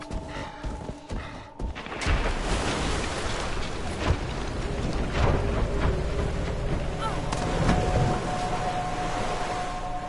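Blizzard wind in the video game Never Alone gusts continuously, a loud broadband rush that swells after a brief lull, with faint tonal game sounds underneath.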